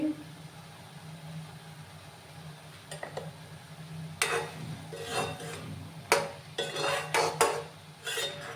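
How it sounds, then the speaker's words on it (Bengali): Papaya chutney being stirred in a pan after salt goes in, with soft scraping and clinks of a spoon against the pan rising in bursts over a steady low hum. "ভালো করে আবার মিক্স করে নিলাম আমি।"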